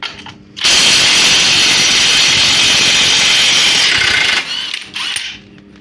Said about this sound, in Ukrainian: Так, головка на 30, гайковерт.